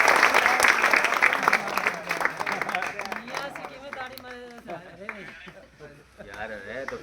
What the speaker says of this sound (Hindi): हर टाइम तो ताली मारनी चाहिए